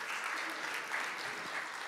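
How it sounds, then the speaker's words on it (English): A large conference audience at a cardiology award ceremony gives sustained applause for Dr. Alain Cribier, a dense, even wash of many hands clapping that fills the whole stretch without a break. "We need another big round of applause to the Dr."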